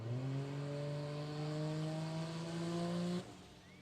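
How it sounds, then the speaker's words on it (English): A nitro funny car engine at Palmyra Dragway, struggling to build boost, holds a loud steady drone that slowly rises in pitch for about three seconds, then cuts off abruptly into quieter background. "Car doesn't want to seem to come up on boost and doesn't want to keep running."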